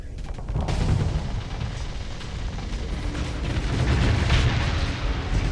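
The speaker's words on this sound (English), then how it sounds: "Watching those torpedoes connect." Torpedoes striking ships in the space combat game Starsector, a dense run of heavy booming impacts and rumbling explosions that swell and roll on continuously, loud and close.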